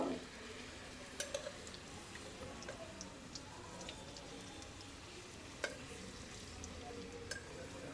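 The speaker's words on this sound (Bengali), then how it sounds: "এক পিঠ ভাজা হয়ে গেছে, এবার উল্টিয়ে আর এক পিঠ ভেজে নেব" Potato pieces frying in a pan over a wood fire on a clay stove give a faint, steady sizzle, punctuated by occasional sharp ticks and pops, with no talking.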